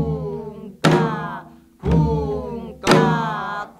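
A Korean janggu drum is struck in an even rhythm, three strong hits about a second apart, each ringing out briefly, while a voice chants the drum pattern along with it.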